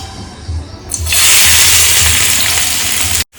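Chopped onion, green chili and garlic hit hot oil in a frying pan over a high flame. A loud, hissing sizzle bursts in about a second into the clip and runs steadily, close up, until it cuts off abruptly.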